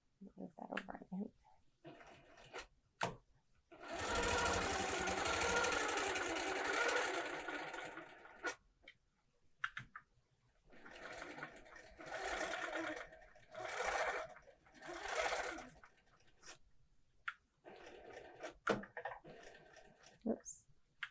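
Longarm quilting machine stitching basting lines through fabric onto Soft and Stable foam stabilizer for a bag, running in loud sustained bursts with pauses between passes and some handling noise.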